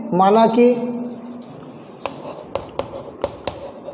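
Chalk tapping and scraping on a classroom board during a Class 10 maths lesson, a series of short sharp taps following a man's spoken phrase at the start, close and fairly clear.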